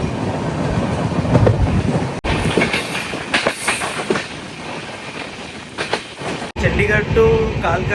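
The Shatabdi Express from New Delhi to Kalka, hauled by two engines on a single-line ghat section, rumbles loudly with rhythmic clickety-clack of wheels and occasional metallic squeals, heard up close from on board.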